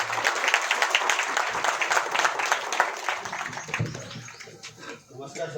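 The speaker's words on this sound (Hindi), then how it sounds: "जनलोक के सिंघम के लिए जोरदार ताली हो जाए" An audience at a community event in Vadodara, Gujarat claps loudly and steadily, a dense wash of applause that fades toward the end while voices talk over it.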